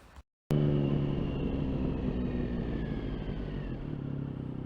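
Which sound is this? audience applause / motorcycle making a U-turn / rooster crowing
motorcycle making a U-turn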